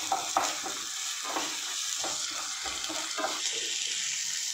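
Dried Kashmiri chillies and ginger-garlic paste sauté in a pan, giving a steady oily sizzle. Soft scraping stirs recur at intervals, close up, with no voices.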